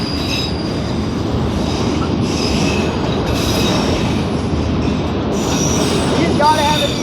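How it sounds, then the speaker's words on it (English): A CN freight manifest train rolls past close by, a loud, continuous rumble of wheels on rail with squealing and clicking over the joints, while voices talk faintly underneath. "CN just passed us."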